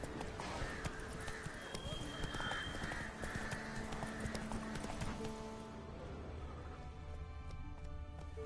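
Roach, a horse in a video game, gallops with rapid rhythmic hoof clip-clops, steady and close, under quiet game ambience, easing off near the end; a person speaks briefly over it.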